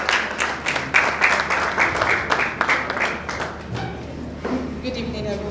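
Applause from the audience at an HR storybook launch evening, a steady patter of clapping with sharp individual claps standing out, fading slightly near the end as a voice and some background chatter come through.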